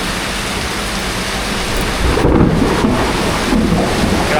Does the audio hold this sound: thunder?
yes